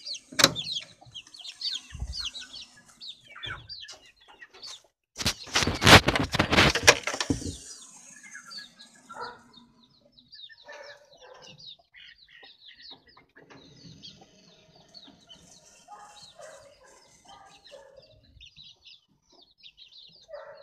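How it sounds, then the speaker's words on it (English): A vulture feeds on meat outdoors, giving scattered squawks and clucking calls throughout, with a loud flurry of rustling and flapping in the middle. "A bird which is eating meat."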